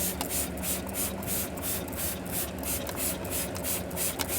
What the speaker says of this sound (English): now spray it again.